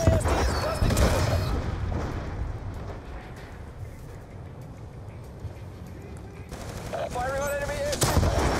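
Automatic and single gunfire from Call of Duty Black Ops 2 in the Dispatch Strikeforce mission, crackling steadily through a busy battlefield mix with radio voices talking over it.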